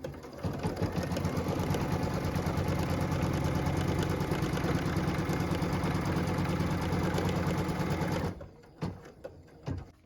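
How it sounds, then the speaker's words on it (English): An embroidery machine runs steadily, rapidly stitching a tack-down line for a quilt heart block piece, its fast mechanical whirr continuous and close for about eight seconds before stopping abruptly, followed by a few faint clicks. "What we're doing now is stitching the tack down line for piece number 6."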